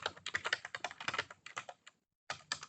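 Quick clatter of keystrokes on a computer keyboard, close and fairly quiet, an irregular run of taps with a short pause before a few more.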